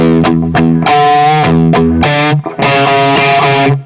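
A Stratocaster electric guitar through a Lerxst Omega amp head plays loud, distorted chords and notes in choppy bursts with short gaps, sustaining at the end.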